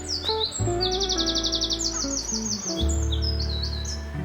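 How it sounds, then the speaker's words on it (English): Birds chirping outdoors in rapid repeated trills, fairly faint and distant, over a low steady background rumble, recorded on the built-in mic of a 1999 Sony DCR-TRV310E camcorder. "No doubt be able to hear those birds very clearly on this mic"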